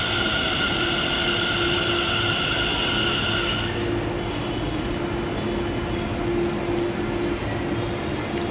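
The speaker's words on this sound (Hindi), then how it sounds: "तो हमारी मेट्रो आ गई है" A metro train pulls into a station in Greater Noida with a loud, steady rumble of wheels and sustained high-pitched squealing, close and continuous throughout.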